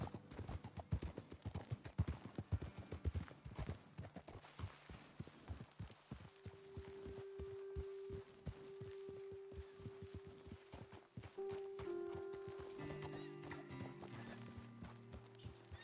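Horses walking with steady clip-clop hoofbeats in Red Dead Redemption 2, busy and fairly close at first, then settling under a low sustained hum and tonal game music toward the end.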